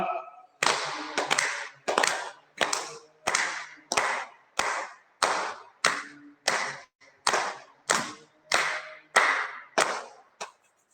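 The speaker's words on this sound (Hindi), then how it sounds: "यहाँ से भी वापस ताली बजा के अभिनंदन कर दें सभी जनों का" Members of a yoga class clap their hands together in unison, a steady series of about fifteen sharp, close claps at an even rhythm, each one crisp and separate, with no talking.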